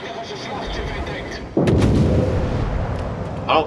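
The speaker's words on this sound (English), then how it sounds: "Now we're getting shot at from our rear." Naval gunfire striking a Helena-class warship in World of Warships, a heavy low boom hitting midway and rumbling on over a continuous engine and sea drone, loud and close.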